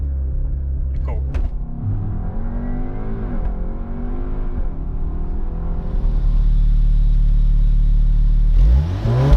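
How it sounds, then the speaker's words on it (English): Volkswagen Arteon with DSG gearbox doing a launch-control start: the engine holds at high revs against the brake, then surges and pulls hard through rising, shifting pitch before one more gearchange near the end, loud and close. "foot hard on the brake, floor the accelerator,"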